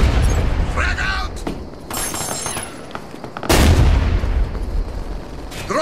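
Grenade blasts and bursts of gunfire from a Ghost Recon Future Soldier multiplayer match, loud broadband booms and sharp cracks with a big explosion midway, layered over game effects and voice callouts.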